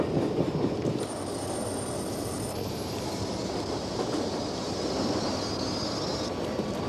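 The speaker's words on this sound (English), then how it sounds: "In a tunnel beneath the nation's capital, a commuter train carries astronomer Benjamin Peary to work" Commuter train rolling through a tunnel beneath a capital city, a steady loud rumble with rail clatter and a brief high wheel squeal, continuous and close with no voices.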